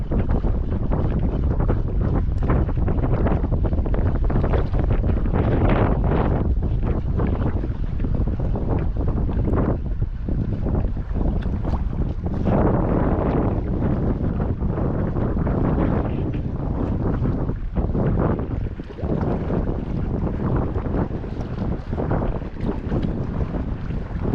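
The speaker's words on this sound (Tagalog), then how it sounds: "Kaya lumakas na hangin." Strong wind roars and buffets continuously, with gusty rumbling bursts and a rushing, blustery texture throughout.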